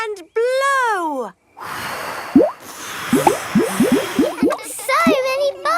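Blowing bubbles in a Peppa Pig cartoon, a breathy blow followed by a run of bright bubbly pops and squeaky plops, with cartoon voices talking at the start and end.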